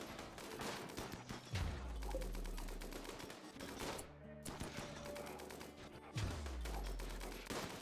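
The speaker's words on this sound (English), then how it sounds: "You're getting shot by those turrets." Turrets in RimWorld fire rapid bursts of gunfire in several long, dense volleys separated by short pauses, loud and close, with little speech.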